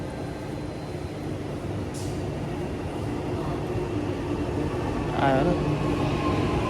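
A local metro train pulls into a station with a steady, rising rumble and rail noise that swells toward the end, while a person talks over it.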